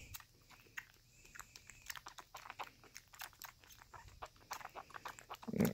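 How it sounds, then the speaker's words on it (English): Kitten Tasha slurps milk from her bottle in quick, wet, irregular sucking and smacking sounds, close and faint, with a brief squeak near the end. "Tasha, you make some racket with that bottle"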